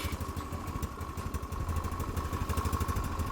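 Engine of a cheap electric-start quad bike running at idle, a steady low mechanical putter with clattering pulses, moderately close and alone with no voices.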